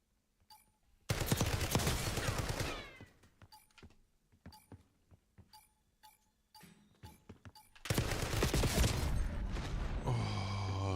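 Gunfire from a Warzone match: two long, loud bursts of rapid automatic fire bracket a stretch of single, spaced-out shots from a slow-firing gun, heard up close with no voices.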